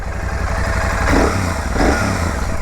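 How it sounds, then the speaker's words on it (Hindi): A Royal Enfield Shotgun 650 motorcycle engine runs close by with a steady, thumping twin-cylinder idle and two brief swells in revs. "आपको देख रहे हैं जो इंजन की साउंड है"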